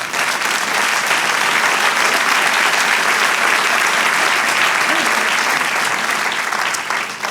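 Loud, sustained applause from a church congregation during a Spanish-language service rolls on continuously and evenly from start to finish, a thick wall of many hands clapping together.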